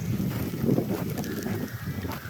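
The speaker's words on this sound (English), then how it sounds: "this wind is really whipping" Strong wind whips during a snowy day on a road, a loud rumbling buffet against the microphone with uneven gusts throughout.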